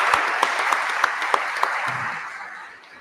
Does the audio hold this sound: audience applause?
yes